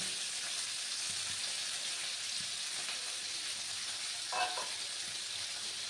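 Diced vegetables and potato fry in a pan for semolina upma, a steady close crackling sizzle with a brief stir partway through.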